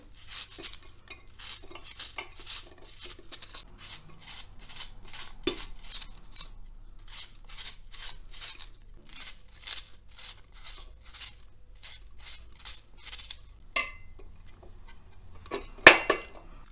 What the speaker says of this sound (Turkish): Yemeklik doğruyoruz soğanlarımızı